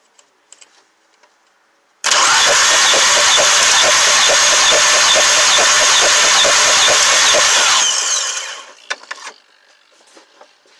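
A VW CC Sport 2.0T four-cylinder engine with a cylinder 3 misfire cranks and runs loudly and steadily for about six seconds with a rough, uneven pulse, then cuts off abruptly, leaving faint clicks behind.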